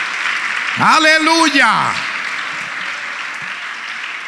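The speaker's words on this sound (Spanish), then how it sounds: "Démosle fuerte ese aplauso a nuestro bendito Salvador." A church congregation applauds steadily as a voice shouts over it, and the clapping then continues alone at moderate level.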